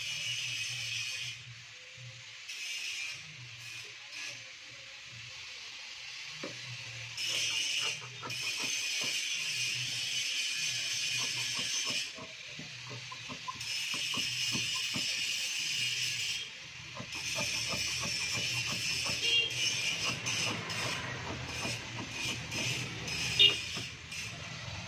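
Scissors cut through fabric for the front panel of a pavadai skirt, making a steady crisp rustle with clusters of small snipping clicks throughout. The sound is close and moderately loud, and no one speaks.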